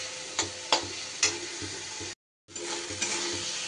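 Ground spices and a splash of water sizzle in hot oil in a pan while being stirred, giving a steady frying hiss with a few scraping strokes and a brief gap.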